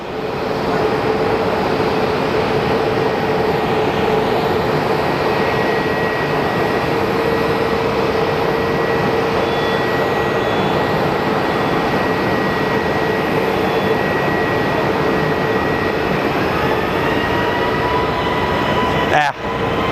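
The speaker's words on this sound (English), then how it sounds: "And here comes our San Francisco flight." An airliner on the San Francisco flight at Phoenix Sky Harbor Airport, a loud, steady jet roar with a sustained engine whine holding for nearly twenty seconds before cutting off abruptly.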